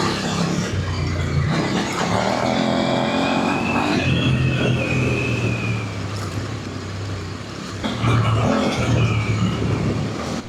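A Kove 800X Pro adventure motorcycle rides hard off-road, its engine droning and shifting pitch under strain with surges and rough terrain noise, no voices.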